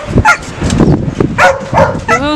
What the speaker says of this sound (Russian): вы услышите, как встречают собаки. Те, кто к ним приезжает.